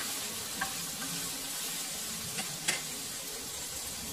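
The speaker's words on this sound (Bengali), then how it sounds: "পেঁয়াজ আর কাঁচামরিচ দুটো একসাথে দিয়ে দিচ্ছি। আর এখন আমি হালকা একটু নেড়ে চেড়ে নিচ্ছি।" Sliced onion and green chili fry in hot oil for an aloo bhaji while being lightly stirred, a steady close sizzle broken by a few soft spatula scrapes.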